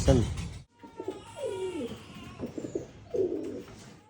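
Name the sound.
pigeons cooing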